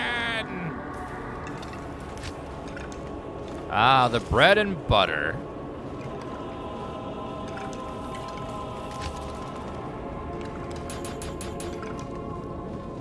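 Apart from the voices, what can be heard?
Necromancer corpse explosion spell in the video game Diablo 2 Resurrected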